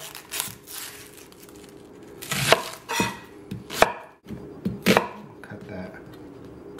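A knife chops celery and onion on a cutting board in irregular bursts of crisp thuds and crunches, some louder than others, with quiet pauses between.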